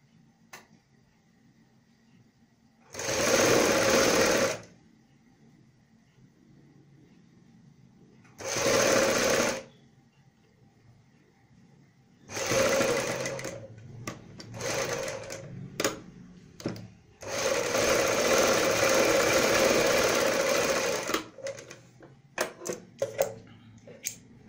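A sewing machine runs double stitching along the outer seam of a kurti sleeve in several separate bursts, the later runs longer and steadier, close up with light handling clicks between them.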